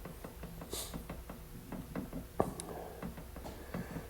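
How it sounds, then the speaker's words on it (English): Light mechanical ticking and rattling from gear lash in a mower deck, small irregular clicks repeating throughout with one sharper knock near the middle, fairly quiet and close. "What you're hearing there is just the lash in the gears."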